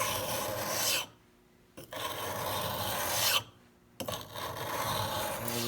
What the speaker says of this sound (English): Now we're going to use a sharpening stone to get the final edge on the blade.